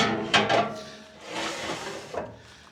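A braai ash drawer slides into place with a few sharp metallic knocks followed by a softer scraping slide, close and alone.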